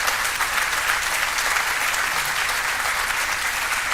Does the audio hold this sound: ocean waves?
no